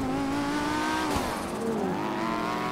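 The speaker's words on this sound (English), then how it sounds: "this GTR sounds so good." Nissan GT-R engine in GTA 5 street racing, a steady revving drone that rises and falls in pitch over a few seconds, close and loud with no talking.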